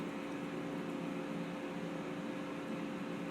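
Steady, even whirring hum of an air fryer running while cooking kale chips, a constant fan-like drone with no breaks or voices.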